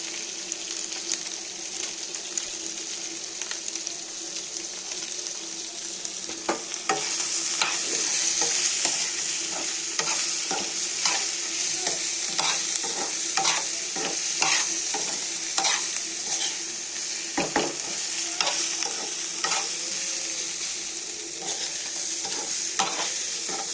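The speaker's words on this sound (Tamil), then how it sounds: "என்கிட்ட அது இல்லை அதனால் நான் வந்துட்டு பெப்பர் தூள் போடுறேன்" Mutton pepper curry frying in a pan just after pepper powder goes in, stirred with steady scraping strokes over a constant loud sizzle, with no talking.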